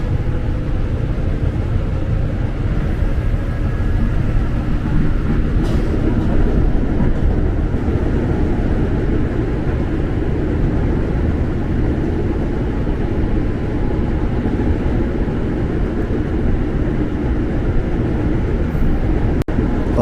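A KRL commuter train heading toward Bekasi rolls along with a continuous loud rumble and rattle heard from inside the carriage, steady for the whole stretch with a few faint clanks.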